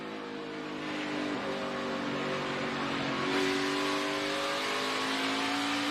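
Race cars racing at the 2018 NASCAR Toyota Owners 400, high engine whines rising and falling as cars pass, layered over a constant distant crowd and track roar.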